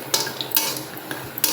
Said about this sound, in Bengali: তাই বড়ি ভাজা করে নিচ্ছি